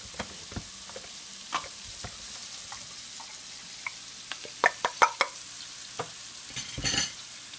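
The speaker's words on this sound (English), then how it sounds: "stir it all together" Onions, garlic and finely chopped ginger stirred in a frying pan for a yogurt curry: a low steady sizzle broken by scattered scraping clicks and knocks of the spoon, louder toward the end, no talk.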